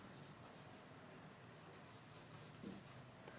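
A pen writes by hand on paper in a very quiet setting, giving faint, soft scratching strokes with occasional slightly louder marks, close but low in level.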